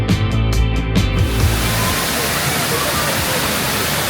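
A river rushes beside a forest trail, a broad, steady wash of flowing water that fills most of the clip after a short opening of other tonal sounds.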